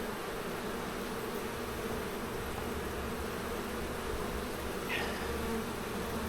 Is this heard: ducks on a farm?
no